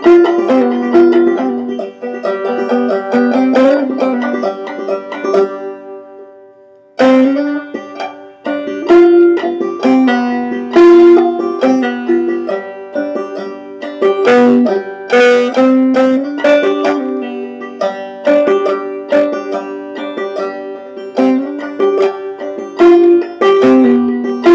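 Guitar plays a riff at regular speed, close and clear, with plucked notes and strummed chords in a lively rhythm and a short pause early on, no talking.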